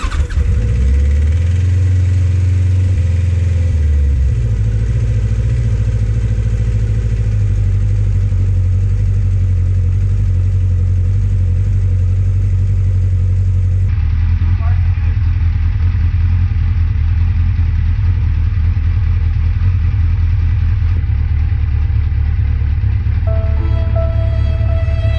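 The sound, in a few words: motorcycle engine running after starting without choke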